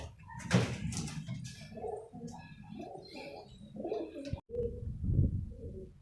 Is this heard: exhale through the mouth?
no